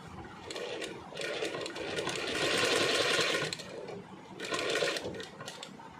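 A sewing machine stitches a folded fabric edge on a patiala garment in three bursts: a short run, a longer steady whirring stretch, then another brief run, with pauses between and no voices.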